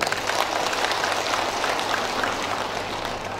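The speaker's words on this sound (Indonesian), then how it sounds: "Tepuk tangan buat beliau." An audience at an Indonesian CSR event handing over rebana equipment to rebana groups claps in a dense burst that starts strong and slowly eases off, with no talking over it.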